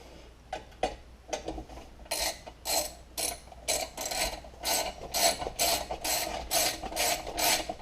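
A ratchet wrench tightens bolts on a starter cover, a steady series of close clicking ratchet strokes that build into quick, regular bursts, with no voices.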